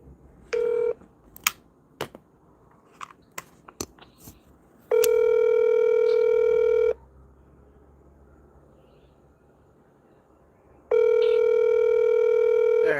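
A phone call being placed: a quick series of touch-tone dialing beeps, then two long loud ringback tones separated by a quiet pause, heard close and clear.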